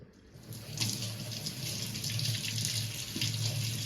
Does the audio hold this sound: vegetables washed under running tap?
yes